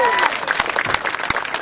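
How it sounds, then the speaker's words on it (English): An audience at a political event applauds, a dense wash of clapping with a brief voice at the start, close and loud across the short stretch. "give yourselves a round of applause"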